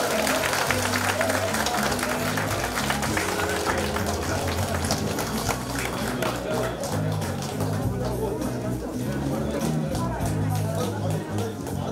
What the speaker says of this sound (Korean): 다시 한번 감사의 박수 부탁드립니다.